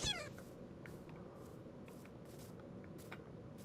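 Cats meowing in Minecraft, a short high cry near the start over a steady low background hum, followed by faint scattered clicks and game sounds.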